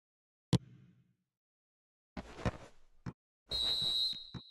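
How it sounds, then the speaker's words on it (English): The referee's half-time whistle in the eFootball video game sounds as a sustained high tone near the end, among scattered game effects and short crowd bursts separated by silence. "And the whistle goes for half-time."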